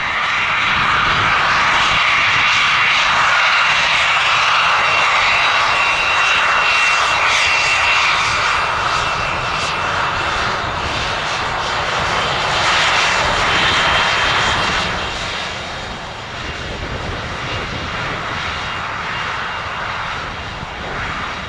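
Private jet engines roar during takeoff at Spirit of St. Louis Airport, a loud, sustained whine and rumble that holds steady before easing slightly as the aircraft pulls away.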